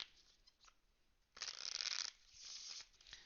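A deck of playing cards riffled and shuffled close by: a quiet opening, then two crisp, dense bursts of fluttering card noise with small taps around them, and no talking.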